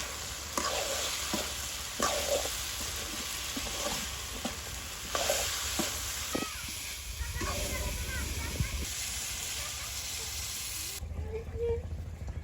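Chopped onion and garlic fry in a pan over a village cooking fire, a steady loud sizzle broken by repeated scraping stirs of a spoon against the pan, with the hiss dropping away near the end.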